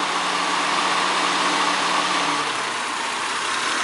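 A 2000 Honda Accord EX with a 3.0-litre V6 VTEC engine idles steadily at close range, a smooth continuous hum with no talk over it.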